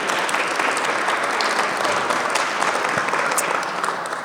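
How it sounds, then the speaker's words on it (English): A crowd at a mayoral candidate forum on housing and homelessness gives a sustained round of applause to the election committee and volunteers, dense and fairly loud throughout. "please give them a round of applause too"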